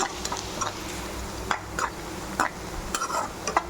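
Onions and garlic fry in a pan for a kola fish garlic curry, a soft steady sizzle broken by periodic scraping spoon strokes, close and quiet with no talk.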